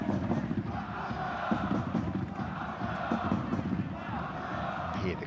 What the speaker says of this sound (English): Hear the crowd singing his name as well.